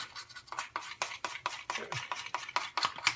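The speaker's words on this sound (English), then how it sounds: "Mix it up really well." Buttercream frosting being mixed by hand in a bowl, a quiet series of about a dozen rhythmic scraping and tapping strokes, close and soft, with no voices.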